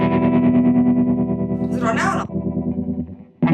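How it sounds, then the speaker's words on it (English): A sustained electric guitar tone through a Keeley Dyna Trem pedal's phaser effect, with a sweeping, swirling texture, rings out, then a voice speaks briefly over it before the tone cuts back in. "It's sort of wah, like no wah, phaser."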